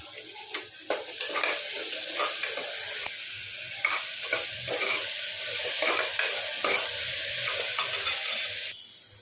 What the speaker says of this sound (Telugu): ఈ ఆనియన్ పేస్ట్ అనేది ఆయిల్లో బాగా మగ్గాలండి, బాగా ఫ్రై చేసుకోండి.